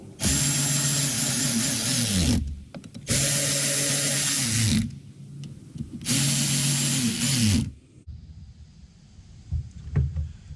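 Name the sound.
tightening screws with a hand tool on a Ford GT350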